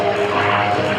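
A Supermarine Spitfire Mark 18 propeller fighter flies at a military open-house airshow, its engine a loud, steady, close drone filling the brief moment with no voices.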